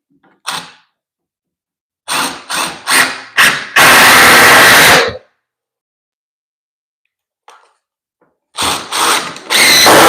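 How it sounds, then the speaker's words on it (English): A power drill drives screws into a wall during a laundry room build: several short ratcheting bursts of the motor, one longer whirring run, a pause, then more brief bursts, close and loud with no talk. "Now I'm gonna run the screws to this wall"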